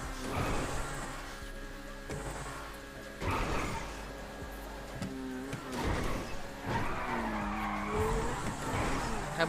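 Zentorno supercar in a tuned-car driving game, its engine revving hard with repeated tire skids and squeals over roughly ten seconds, mixed with other game noise at a steady, fairly loud level.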